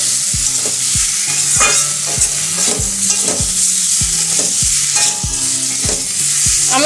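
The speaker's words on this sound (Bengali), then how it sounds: "এই কষানো মশলার মধ্যে দিয়ে দেবো সিদ্ধ করে রাখা কচুর লতি ভালোভাবে মশলার সাথে কচুর লতি নাড়াচাড়া করে মিশিয়ে নেবো" Boiled taro stolons are stirred into fried spice paste in a pan, a spatula scraping and knocking in a steady rhythm of about two strokes a second over a loud, constant sizzle; no voices.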